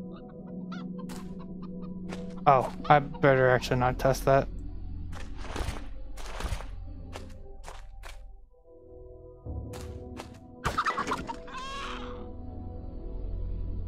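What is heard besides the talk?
chicken clucking in video game Arx Fatalis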